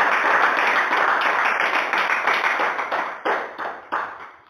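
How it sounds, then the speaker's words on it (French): A church congregation claps in worship, a dense burst of many hands that thins out into a few sharp, separate claps near the end. "Applaudissez pour le Seigneur."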